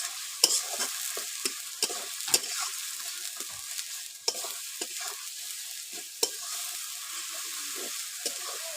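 Spice masala sizzling in hot oil in a pan for a Bengali fish curry, with a spoon scraping and stirring in quick irregular strokes over a steady hiss.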